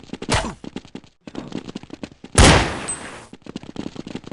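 Counter-Strike 1.6 gunfire: sharp rapid handgun shots in bursts, with one loud blast followed by a ringing tail, no talking.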